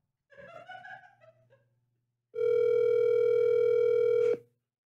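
A telephone dial tone sounds during a call, a loud, steady, unbroken tone lasting about two seconds that cuts off abruptly, preceded by a brief faint vocal-like sound.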